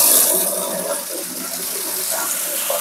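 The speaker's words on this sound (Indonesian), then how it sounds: "Coba putar keran." Well water from a pump gushes strongly out of an opened tap, a loud, steady splashing rush heard up close with no pauses.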